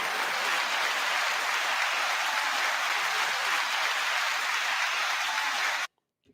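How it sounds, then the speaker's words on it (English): Dense, steady applause from a large studio audience welcoming a podcast host onto a talk show, loud and continuous for about six seconds before cutting off abruptly. "9 second applause"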